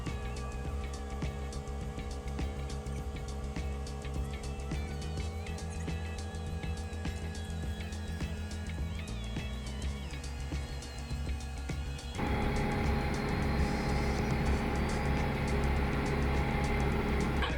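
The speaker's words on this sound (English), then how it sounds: "Right there, ladies and gentlemen, is how you do a tandem excavator, skid steer, rock placement." An excavator and a skid steer working together to place rocks, a steady low engine drone with rattling and hydraulic whine, shifting to a louder, rougher roar partway through as the machines push harder.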